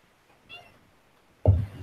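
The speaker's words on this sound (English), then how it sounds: "I don't think your cat's a fan." A domestic cat meows once, fairly close and loud, in a short burst near the end; a faint higher cry comes a little earlier amid otherwise quiet room sound.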